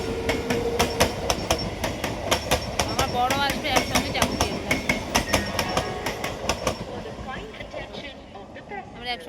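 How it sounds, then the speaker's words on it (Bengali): A passing train rumbles steadily past a platform at Uttarpara with rhythmic clickety-clack from the wheels, brief squeals and a faint voice, the noise easing off toward the end. "এদিকে ট্রেন আসছে"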